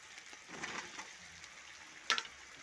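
Mushroom bhaji ingredients frying in a pan make a soft, close sizzle with faint stirring scrapes and a sharp brief clatter near the end, quiet and free of talk.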